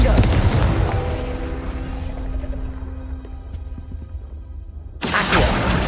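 A Confringo blasting spell bursts in Hogwarts Legacy: a loud, broad explosive boom opens the clip and rumbles away over several seconds with faint game music beneath, then a second sharp blast hits near the end.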